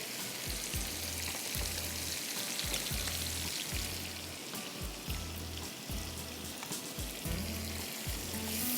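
Potatoes sizzle in a pan of hot oil as part of a spiced achaar aloo dish, giving a steady, close frying hiss with low bubbling pops that keeps going without a break.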